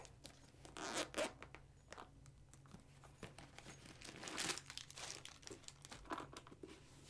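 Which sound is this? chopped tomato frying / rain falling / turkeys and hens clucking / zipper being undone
zipper being undone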